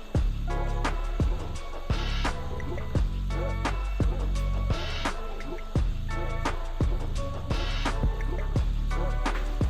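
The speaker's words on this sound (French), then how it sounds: "je mets une goutte sur le front" Drops of vitamin C serum from an SVR dropper bottle land one at a time on facial skin during a skincare routine, a soft run of close, wet drips and tiny squishes repeating at a steady rhythm with no talking.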